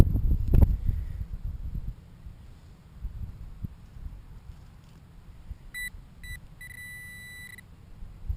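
A metal detecting pinpointer out in strong wind gives short electronic beeps, then a steady held tone. The beeps are clear and close over low wind rumble and rustling near the ground.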